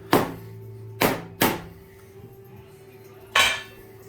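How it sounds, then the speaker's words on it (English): A metal grater clatters into a kitchen sink during cooking, giving four sharp metallic clanks spread out over a few seconds, each ringing briefly before fading, with no talk. "Grater in the sink."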